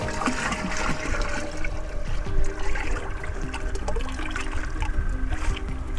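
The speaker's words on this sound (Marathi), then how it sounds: "हे आपण आता गुळ पाणी टाकत आहोत" Jaggery water poured into a container to make organic farm slurry, a continuous splashing, gurgling pour lasting several seconds at moderate volume with no talk.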